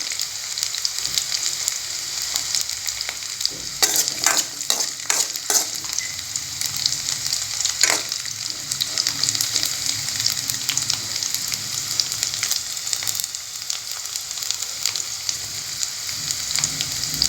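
Garlic cloves frying in hot oil for a tamarind-based garlic kulambu, giving a steady, close crackling sizzle broken by a few sharp scraping clicks of a ladle against the pan.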